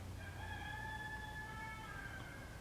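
A rooster crows outside once, a faint, drawn-out call with a bright tonal quality, heard distantly over a steady low background rumble.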